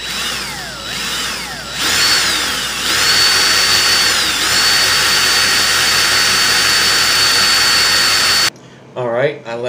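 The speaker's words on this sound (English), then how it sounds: "Now I'm going to put my drill in reverse and loosen up this ribbon clapton." A power drill spins steadily while twisting a length of ribbon Clapton coil wire for a single vaping coil, its whine gliding up in pitch then holding loud and constant before cutting off; a voice speaks briefly at the end.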